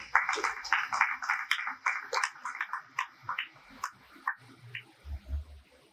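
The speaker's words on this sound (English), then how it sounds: "Round of applause for him." A seminar audience claps in a burst of applause that starts dense and gradually thins into scattered individual claps, heard fairly close in an indoor room.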